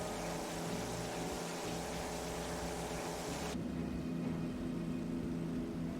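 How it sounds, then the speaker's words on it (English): A steady aircraft engine drone in a flight simulator game, a continuous low hum with a bright upper band that suddenly drops away partway through, leaving a duller, softer tone. "The engine sounds are a tiny bit hollow, a bit light compared to the Mark 9"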